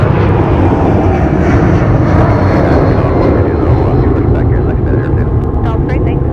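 A jet airliner on runway 30 right at Minneapolis–St. Paul airport gives a loud, continuous engine roar that stays steady throughout, with radio-style voices talking faintly underneath.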